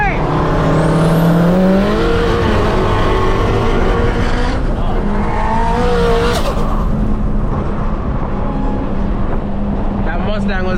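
An SRT Hellcat races at night against a BMW M4 and a 1000hp Supra, its engine roaring loudly and continuously with a hint of tire squeal. People talk excitedly over the roar.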